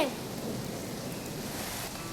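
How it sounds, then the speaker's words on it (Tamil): Heavy rain pouring down outdoors, a dense steady hiss of falling water with no gaps throughout. "அம்மா அம்மா இங்க பாருங்கம்மா, மழை வேகமா பெய்யுது."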